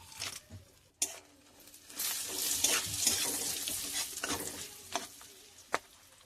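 Whole cinnamon, cloves, bay leaves, dried chillies and cracked cardamom fry in hot oil with a soft, steady sizzle, broken by several sharp clanks and scrapes of stirring.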